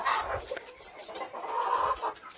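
Chickens clucking and squawking close by, a busy overlapping chatter of several birds with no talking.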